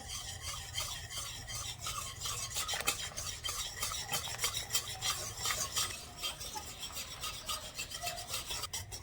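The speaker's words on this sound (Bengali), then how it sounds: "এবার একটা হুইক্স দিয়ে ভালো করে মিশিয়ে নেব" Milk powder being whisked in a bowl for a sugar-free milk halwa, rapid rhythmic scraping and rubbing strokes of a whisk against the bowl, close and continuous throughout.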